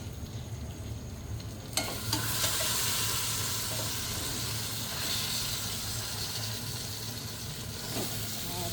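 Pork trotters drop into a pan of frying garlic, setting off a sudden loud sizzle that keeps hissing steadily, with faint stirring movements.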